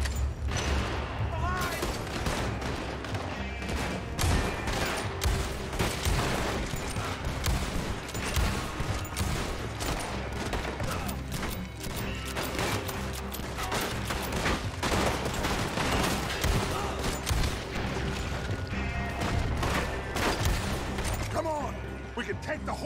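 Gunfight in Red Dead Redemption 2, a dense, continuous barrage of rifle and pistol shots cracking over one another near and far, with game voices shouting in the background throughout.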